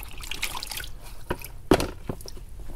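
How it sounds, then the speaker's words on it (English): Sandpaper, 180 grit, being dipped into a container of water while wet-sanding painted custom 26-inch Forgiato wheels for a Box Chevy Caprice, giving faint liquid drips and small splashes in a quiet room. "I'm just gonna dip it in my water here."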